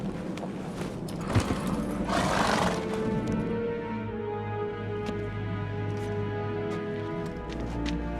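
Roach, the horse in The Witcher 3, lets out a loud neigh and snorting after a short rein-in, then fades beneath a steady ambient hum, with a brief spoken line near the start.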